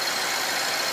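A BMW 5GT 750Li with its N63 engine, recently repaired after heavy oil consumption and leaks, runs with a steady, close, fairly loud idle that shows no variation over the short span.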